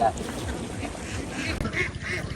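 A noisy flock of farmed ducks in wetland quack repeatedly in the background, heard beneath people talking nearby.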